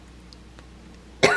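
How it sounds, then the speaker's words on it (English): A single sharp cough bursts out near the end after a quiet room stretch, close and fairly loud, during a cross-stitching session. "I might have to stop my video because I'm getting a cough attack"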